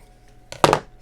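Scissors snip through a candy wrapper during a craft project: one short, crisp cut heard up close and alone, with a faint lighter click just before it.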